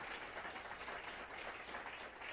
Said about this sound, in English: Give Jared another round of applause